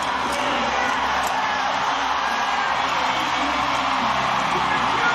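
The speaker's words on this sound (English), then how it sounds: "This crowd showing their appreciation." A rodeo crowd at a PBR Unleash the Beast bull riding event in Albuquerque roars and cheers in a dense, continuous wall of noise, with a few whoops rising above it.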